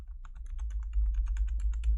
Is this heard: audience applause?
no